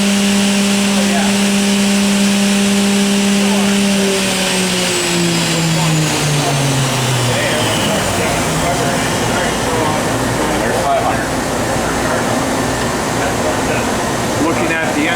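Spindle of a 2001 Kuraki KHM-125 CNC horizontal machining center winding down from 12,000 RPM toward 500, a loud steady whine whose pitch drops over several seconds and then settles into a lower hum.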